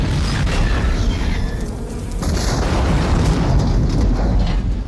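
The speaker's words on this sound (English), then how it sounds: "That's the explosion." A miniature truck explosion from The Terminator, staged as a 1/6-scale model, rumbles as a loud, sustained boom with dense low-end roar that fills the whole stretch without letup.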